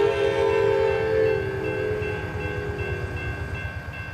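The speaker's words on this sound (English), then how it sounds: "Amtrak" An Amtrak train in the American Truck Simulator game rumbles past with a sustained horn blast, followed by a rhythmic clatter of wheels over rail joints that continues, fairly loud and close, after the horn fades.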